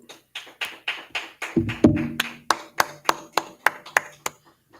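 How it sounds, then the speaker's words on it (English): A small group claps in a steady rhythm at a religious school gathering in Houston, with about fifteen sharp, close hand claps that come in an even beat and briefly overlap with a voice partway through. "All right, clap it up."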